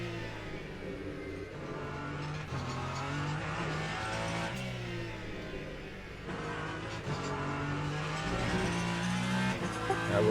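Ferrari 499P LMH hypercar engine in the Le Mans Ultimate racing game at Sebring, a continuous tonal engine note rising and falling through revs and shifts, with brief tire squeal, steady and close.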